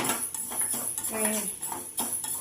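Cumin and fenugreek seeds roasting in a small pan on a stove, with repeated metallic scraping and clinking of a spoon against the pan, close and moderately loud.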